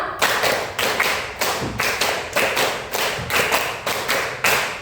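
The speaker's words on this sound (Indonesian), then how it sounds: "3 kali tepuk 5" A classroom of children performs a counted clapping pattern, repeated three times: a steady series of roughly a dozen crisp, evenly spaced group claps, loud and near, with no voices.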